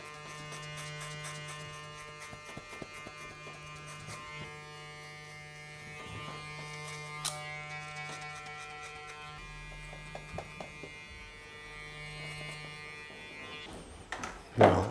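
Electric clippers buzz steadily while tapering the neckline of a short back and sides haircut, a close, continuous motor drone with small clicks and handling noises and a louder bump near the end.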